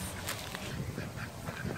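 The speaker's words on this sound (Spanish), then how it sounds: "Por ahí van los patos." Ducks quack and honk in short, scattered bursts, fairly close, over a noisy outdoor background.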